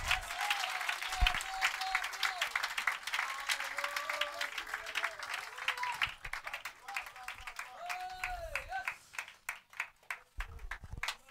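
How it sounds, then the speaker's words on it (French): A church congregation claps and cheers in praise, rhythmic hand claps over crowd noise with voices calling out and singing tones, thinning into scattered sharp claps toward the end. "Donnez une main d'acclamation au Seigneur."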